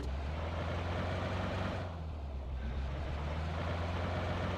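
Vehicle engine droning steadily in a video game, a low continuous rumble that holds throughout with a brief dip in the upper hiss midway, no talk.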